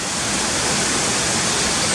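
Cotter Force waterfall roars in a steady, dense rush of falling water, loud and close, with no break across the whole stretch.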